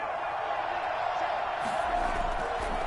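A video game crowd in an American football stadium sends up a steady, swelling roar of cheering that builds slightly toward the end, heard alone at moderate level.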